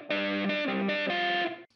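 An electric guitar rings out through a distorted, chorus-tinged effects rig set for a song: a short, loud, sustained riff of a few chord changes, heard alone and ending abruptly.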